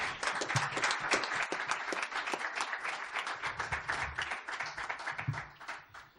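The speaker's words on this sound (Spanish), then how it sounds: "para quien les pido también un fuerte aplauso" An audience at a Spanish book presentation for a sonnet collection applauds, dense sustained clapping from many hands that stays steady for several seconds before tapering off.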